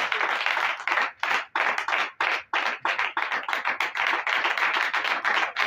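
A church congregation claps in acclaim of Jesus, a dense, sustained crowd applause with rhythmic surges, loud and close, with no talking.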